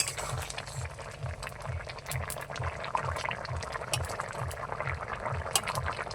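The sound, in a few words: potato and fish-roe curry boiling in a covered pot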